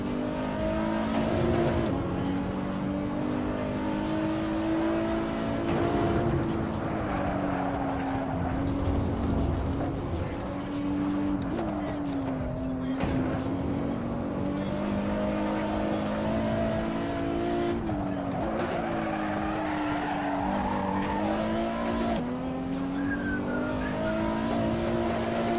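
Fast production cars race on the Nürburgring in Assetto Corsa, with engines revving and droning continuously. Pitch rises and falls through gear changes, and there are brief tyre squeals. Someone talks over the engine noise at times.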